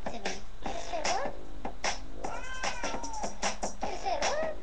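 A cat meows several times with rising and falling calls, mixed with sharp snapping-like clicks over a steady low background hum, fairly faint and close.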